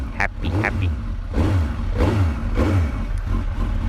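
Motorcycle engine idling roughly at around 950 RPM, with uneven, lumpy low pulses repeating about every half second, close and steady, while someone talks over it.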